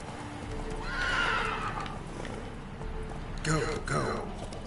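A horse in The Witcher 3 gives a clear neigh and whinny over rhythmic hoofbeats during gameplay, with a second shorter whinny near the end. The sounds are moderately loud against soft background game noise.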